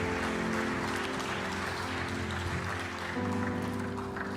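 Church congregation applauding during a Sunday service: a dense, steady wash of many hands clapping, sustained throughout with a low tonal hum of music or organ underneath.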